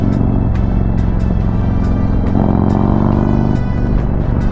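A Harley-Davidson motorcycle fitted with a new HPI throttle body and intake manifold rumbles loudly as it accelerates on the road, a continuous deep engine drone with rising revs and wind buffeting throughout.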